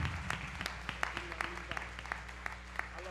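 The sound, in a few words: congregation applauding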